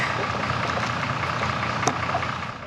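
Vehicle engines idle in a stalled traffic jam near Como on a mountain road in the Alps, a steady low rumble heard from close by with a brief clink partway through.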